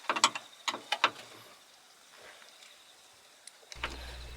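A Phillips screw is worked loose from the inner door panel of a Honda CR-Z, giving a quick cluster of close, sharp ratcheting clicks, then a quiet stretch and a low mechanical hum near the end, with no talking.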